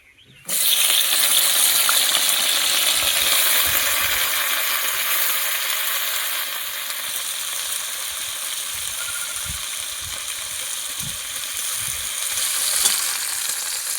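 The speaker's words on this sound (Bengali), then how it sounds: "প্রথমে শিমগুলো ভেজে নেব।" Broad beans hit hot oil in a wok with a sudden loud sizzle that holds strong and steady, easing slightly midway, with occasional light scrapes and clinks from stirring, and no talking.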